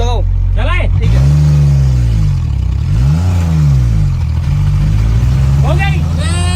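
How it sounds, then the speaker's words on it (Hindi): A car engine fires up after being started in reverse gear without a push, then revs up and down in rising and falling sweeps, loud and close, while people talk over it. "अभी देखो गाड़ी बिना धक्का लगाए स्टार्ट हो गई"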